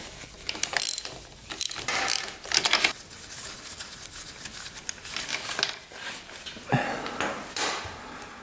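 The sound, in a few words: socket wrench ratcheting on supermoto motorcycle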